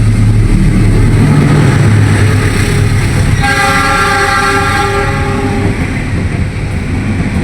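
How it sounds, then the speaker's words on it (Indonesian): A Cikuray passenger train passes a Papandayan train bound for Garut, with a loud, steady rumble of wheels and carriages, and a long horn blast sounding over it midway. "kereta api Cikuray yang saya naiki bersilang dengan kereta api Papandayan"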